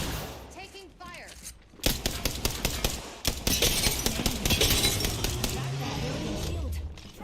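Gunfire in the video game Apex Legends: rapid bursts of shots and crackling hits rise suddenly and keep up a dense, loud barrage, with some game voice lines mixed in.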